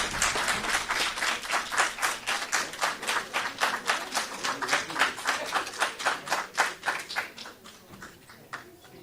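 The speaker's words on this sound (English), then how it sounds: "Let's give Mr. Bopier a round of applause." An audience claps steadily at the end of a speech during a public speaking competition, a dense, even run of handclaps close by that holds for several seconds before thinning out at the end.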